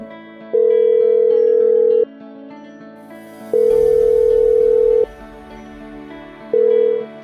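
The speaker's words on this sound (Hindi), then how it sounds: "तो फोन मिलाया जाए?" A telephone call rings out on the line: three long, loud, steady tones spaced about two seconds apart, with faint background sound between them and no talking.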